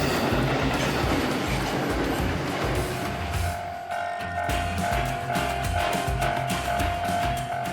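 A train rumbles past close by over a bridge near Hakata Station in Japan, wheels clattering rhythmically over the rails with a steady metallic roar and a faint high tone.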